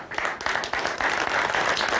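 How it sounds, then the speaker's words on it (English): A crowd applauds during a Pokémon-themed reaction segment, a steady wash of many hands clapping at moderate loudness for a couple of seconds with no talk over it. "As if he got a fucking applause."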